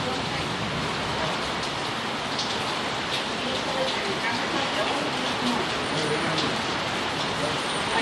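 Steady rain falls during a severe thunderstorm, a dense, even hiss of drops on surfaces that fills the whole scene at moderate volume, with no thunder standing out.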